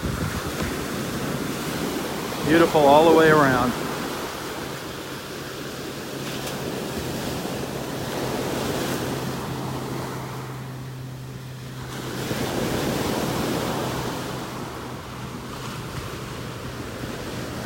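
Ocean waves wash steadily onto a beach in North Naples, Florida, with a broad, continuous surf roar and wind buffeting the microphone. A short spoken remark comes early, then the surf swells again later on.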